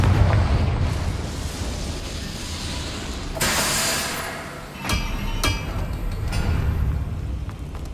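A Confringo blasting spell explodes in the Hogwarts Legacy video game: a sudden broad roaring burst midway, then a sharp crack a moment later, over a steady rumbling game backdrop.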